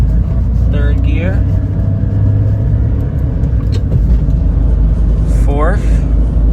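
A Honda Street kei van's engine rumbles steadily at low revs while driving in first gear, with someone talking briefly over the drone.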